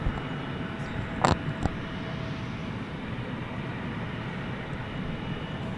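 Continuous distant jet roar from a DHL Aerologic cargo plane at DFW Airport at night, steady and moderately loud, broken by a couple of short sharp clicks early on.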